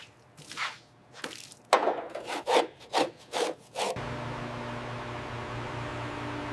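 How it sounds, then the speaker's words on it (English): Rhythmic back-and-forth scrubbing of a stiff brush against mold and moss in hidden crevices of a 20-year-old MaxxPro MRAP cab, about eight rough strokes up close, then a steady hiss of running noise. "Scrubbing away mold and moss from hidden crevices on the MRA."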